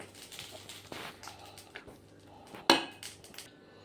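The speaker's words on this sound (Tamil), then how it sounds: "இதை நம்ம நல்லா மிக்ஸ் பண்ணிக்கலாம்" A spoon scrapes and clatters against a pot as tempered onion, chili and curry leaves are mixed into a dish, faint soft stirring taps with one sharper knock near the end.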